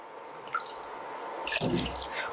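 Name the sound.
water being poured into a pot for upma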